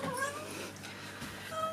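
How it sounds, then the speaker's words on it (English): A faint, brief cat meow rising and falling, heard at low volume over quiet room noise. "So that's my cat, Pungi."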